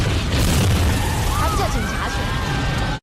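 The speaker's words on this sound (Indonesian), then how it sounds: "tiba-tiba terjadi sebuah ledakan yang sangat besar." A huge explosion in a Jackie Chan action film, a deep sustained rumbling roar with crackling debris and faint whistling tones over it, loud and continuous.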